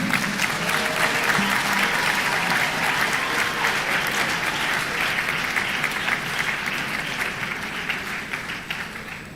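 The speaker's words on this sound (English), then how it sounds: "Shall we please applaud them once more?" Sustained crowd applause for graduates at a graduation ceremony, dense and even clapping throughout, slowly thinning toward the end.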